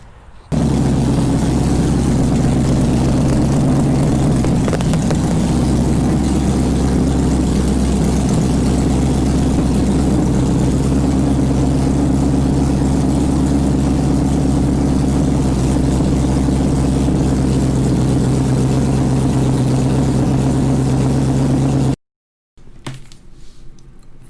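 A Plymouth Dart's engine fires up and settles into a loud, steady idle with a deep, throbbing rumble held close, running continuously for over twenty seconds before cutting out abruptly.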